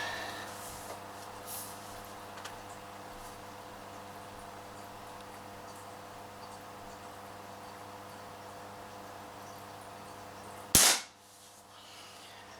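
An Umarex Cowboy Rifle air rifle fires a pellet at a pop can, heard as a single sharp crack near the end after a long stretch of quiet, steady background hiss.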